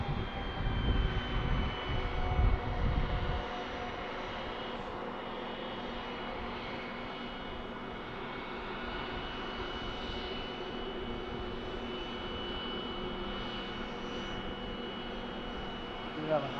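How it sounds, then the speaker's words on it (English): A Delta Boeing 717 jet airliner at Harrisburg's MDT airport hums and whines steadily with engine tones, with a louder rumble under the opening seconds before settling into a continuous mid-distance drone. "This is our Delta 717."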